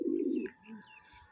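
Pigeons cooing in a rooftop loft in Rajasthan, one low throaty coo up close followed by a softer second call and faint chirps, no voices.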